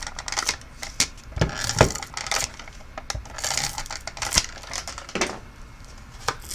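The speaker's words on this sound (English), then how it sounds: "I'm going to put some tape on there now" Tape is handled and pressed onto a card panel, making close, irregular crinkles, taps and soft crackly rustles at moderate loudness with no speech.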